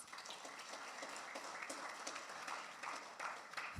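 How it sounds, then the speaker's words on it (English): A graduation ceremony crowd applauds, producing a dense, even clatter of many hands. It is faint and distant and holds steady for the whole few seconds with no talk over it. "Give yourselves a round of applause."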